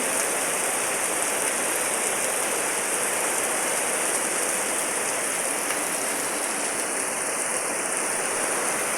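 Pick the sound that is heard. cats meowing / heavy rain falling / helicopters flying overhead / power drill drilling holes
heavy rain falling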